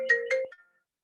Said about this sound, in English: it's like my computer ringing and I don't know how to shut that off on my computer